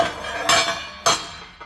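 Metal workpiece set down and lifted on a steel welding bench, giving two sharp clanking impacts about half a second apart and a lighter knock at the end, close and clear with no talk.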